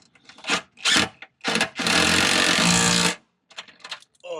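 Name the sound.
drill driver driving bolts on a Jeep Wrangler TJ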